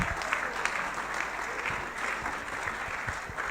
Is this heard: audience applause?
yes